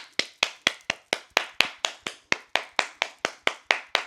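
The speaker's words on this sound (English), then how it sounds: "Matter of fact, give yourself a round of applause." A single pair of hands claps in a steady, even rhythm, about four sharp claps per second, close and crisp with no voices over it.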